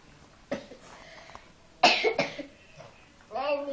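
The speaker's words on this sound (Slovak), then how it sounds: "No ale pekne kašleš." A child coughs in a home at Christmas, a few sharp separate bursts with quiet gaps between them, followed by a short stretch of speech.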